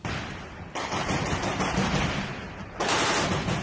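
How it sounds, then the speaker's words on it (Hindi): Rapid bursts of automatic gunfire ring out inside the Azovstal steel plant, loud and close, with a sustained rattling volley that briefly eases and then surges again toward the end. "वहां एक कमरे में छिपे रूस के सैनिक ने सामने से हो रही फायरिंग का जवाब देने के लिए ताबड़तोड़ गोलियां चला दी"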